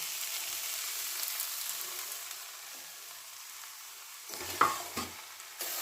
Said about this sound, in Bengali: সুজি দিয়ে ভালো করে নাড়াচাড়া করে নিয়েছি